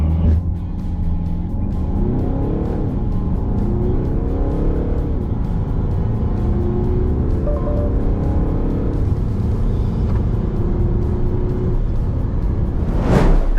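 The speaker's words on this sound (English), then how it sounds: "Flat out 0 to 100, it's a quick SUV with one person on board." Citroen C5 SUV, a 2022 model with an 8-speed automatic, accelerating flat out from 0 to 100 with one person aboard: a loud, steady engine rising in pitch through several upshifts over about thirteen seconds, with no talk.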